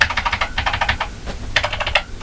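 Keys pressed one after another on an Acorn Electron computer keyboard, a rapid run of close, clicky taps, a brief pause, then a few more separate presses.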